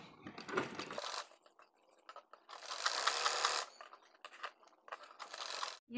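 A sewing machine stitches right along the fabric edge of a baby girl's crop top, with three whirring runs of close, quick stitching separated by brief pauses and small mechanical clicks, with no talking.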